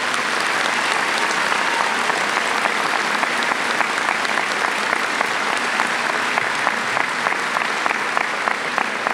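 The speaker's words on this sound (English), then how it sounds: "Let's please give them a round of applause." An audience at a graduation ceremony gives sustained, dense applause for about nine seconds, many hands clapping evenly at a steady level.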